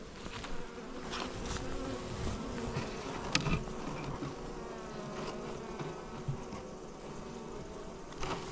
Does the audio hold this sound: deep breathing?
no